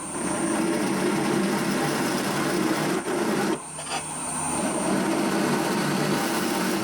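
A 12.6mm drill bit grinds steadily into a cast clock part to start a hole, a continuous rasping whir that briefly dips and stops mid-way before resuming.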